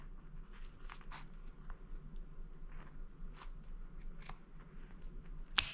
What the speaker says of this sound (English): we're going to cut off all the excess